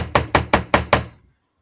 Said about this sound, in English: That was me knocking on wood.